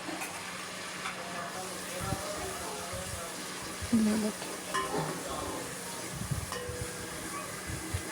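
Spices frying in hot ghee as a tempering for dal mash, with a steady, soft sizzle and occasional stirring clinks, while someone speaks briefly.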